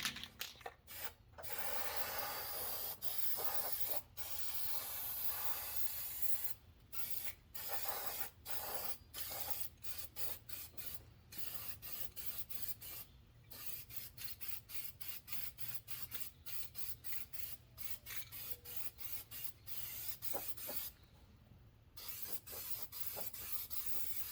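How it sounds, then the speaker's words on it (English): Rust-Oleum Rust Reformer sprayed heavily from an aerosol can into the gaps where metal panels meet on a 1974 Ford F100 dash, a steady close hiss broken by many short pauses between bursts, with no talking. "I'm going to spray this real heavy down into these gaps here where this metal meets this other metal"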